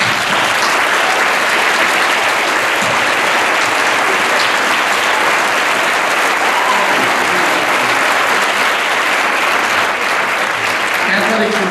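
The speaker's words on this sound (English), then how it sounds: "You deserve a round of applause." An audience applauds senior student athletes at a 2012 Durango athletic awards event: loud, sustained clapping fills the room for the whole stretch, mixed with crowd voices and cheers.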